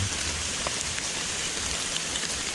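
Rain falls steadily on a forest, a constant close hiss of drops on leaves and ground with no pauses.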